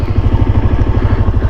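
A motorcycle engine chugs in a rapid, even low pulse on a rough, narrow trail, close and loud throughout the short stretch with no talking.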